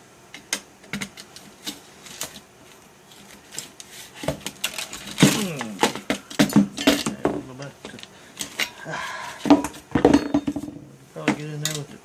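Handheld pry bar working apart a computer case during a repair, with scattered metallic clicks, creaks and plastic snaps, close and uneven, someone talking intermittently over it.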